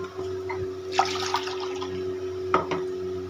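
Water is poured into ground paste for pani puri. A few short splashes and trickles sound close and moderately loud over a steady background hum.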